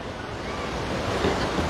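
Steady rushing wash of low waves breaking along Waikiki beach, heard as continuous surf with some wind noise and no talking.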